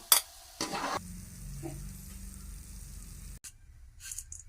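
Onions frying in hot oil for a flattened-rice mixture, a soft steady frying hiss broken by a couple of louder clatters and a sudden stop near the end.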